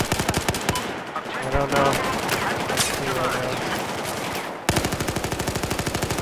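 Rapid automatic gunfire in a shooter video game, loud bursts of closely spaced shots starting and stopping, with a brief voice speaking over the fire.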